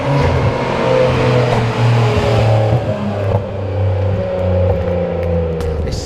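Nissan Skyline R32 GTR making a clumsy turnaround, its engine revving and settling in several swells over a low idle rumble, loud and close with no talk.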